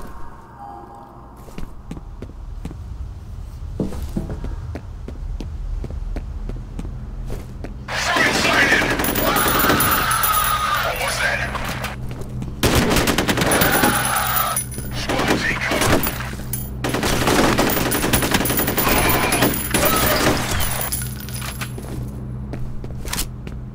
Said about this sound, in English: You don't hear all this gunfire going on in the next room?